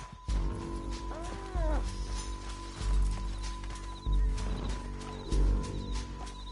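Horse hooves in Red Dead Redemption 2, a rhythmic run of heavy clip-clop beats with snorts and a whinny, loud and close, over a steady game music drone.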